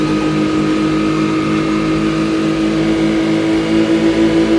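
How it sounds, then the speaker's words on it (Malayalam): A speedboat engine drones steadily at close range, a loud, even mid-pitched hum with a faint pulsing at the end, with no voices over it. "ഇവിടെ നിന്നുള്ള യാത്രയെല്ലാം സ്പീഡ് ബോട്ടിലാട്ടോ"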